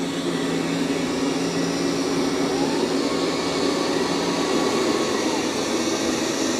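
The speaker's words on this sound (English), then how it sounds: "it's actually doing a pretty good job of vacuuming" A Dreame L40 Ultra robot vacuum running across the floor: a steady, even motor whir with a constant hum and airy hiss, unbroken and close throughout.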